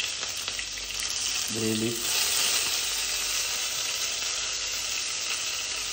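Curry leaves crackle and sizzle as they hit hot oil, a loud, steady frying hiss that runs the whole time with a brief stir; a voice speaks once near the start.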